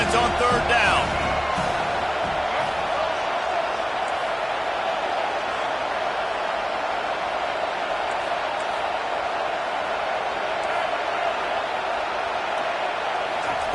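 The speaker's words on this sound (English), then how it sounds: "Decibels rising as the crowd gets behind this defense on 3rd down." Football stadium crowd cheering for the defense on third down: a steady, loud roar of many voices that holds throughout without clear peaks.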